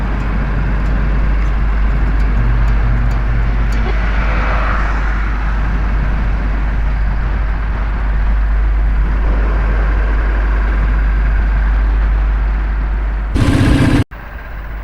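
A motorbike engine drones steadily on a rural village road through paddy fields and areca plantations on a cool morning ride, with wind rushing throughout and a brief loud burst near the end.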